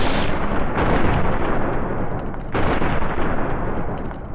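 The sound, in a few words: gunfire in the video game Fallout: New Vegas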